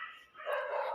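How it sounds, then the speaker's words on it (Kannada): A single dog barks once, fairly close, in a brief burst with no other sounds around it. "ಬೊಗಳ್ತಾನೆ ಇರುತ್ತೆ ನಾಯಿಗಳು."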